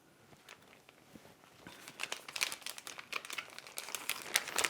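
Crinkling foil ration heater bag being folded over its soaking pad, part of a Lithuanian Army single meal ration; faint scattered rustles build into louder, denser crackling crinkles toward the end.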